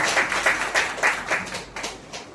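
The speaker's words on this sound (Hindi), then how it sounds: "सोना मैडम के लिए तालियां होनी चाहिए।" A short burst of clapping from a small group, with uneven individual claps rising and fading over a couple of seconds.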